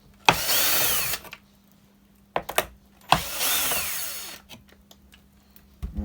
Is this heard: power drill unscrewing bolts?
yes